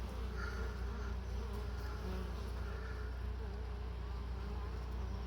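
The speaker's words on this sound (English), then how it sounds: "2 bees were on that wasp immediately." Honeybees hum in a steady, dense drone at a hive while yellow jacket wasps try to raid it, the buzzing continuous and close with no voices.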